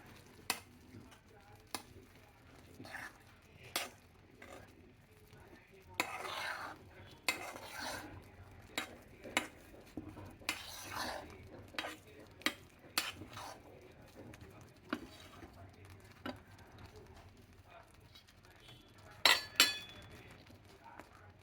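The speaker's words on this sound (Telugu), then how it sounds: "గరం మసాలా చిటికెడు వేసి బాగా కలిపేసి" A spoon stirring garam masala into masala oats in a pot, with repeated scraping and clinking of metal against the pan at an uneven rhythm, close and moderately loud, while someone talks quietly at times.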